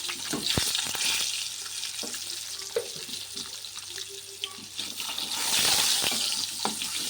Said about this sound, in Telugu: కొంచెం మంచి కలర్ వచ్చేదాకా వేయించుకోవాలి